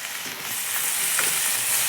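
Ingredients tipped into a hot pan and stirred, with a loud, steady sizzle filling the whole moment and a few soft scraping strokes underneath.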